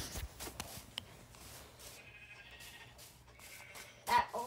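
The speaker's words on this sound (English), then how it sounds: "I just found a bunch of white sheep." Several faint sheep bleats in the Minecraft video game, brief calls spread over a few seconds against a quiet background, with one louder bleat near the end.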